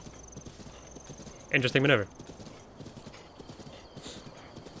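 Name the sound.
horse hooves clip-clopping in the video game Zelda: Breath of the Wild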